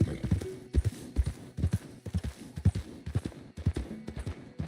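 Horse hooves clop in a steady rhythmic gait in Red Dead Redemption 2, close and prominent, with no talk over them.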